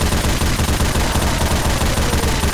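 Dense, continuous gunfire from Left 4 Dead 2, loud and close, with rapid overlapping shots filling the whole stretch without pause.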